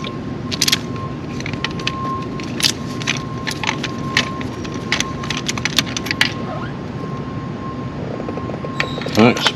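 A ratchet works on a spark plug in a BMW N55 engine in a car, a series of sharp metallic clicks and ratcheting bursts over a steady background hum, with occasional voices.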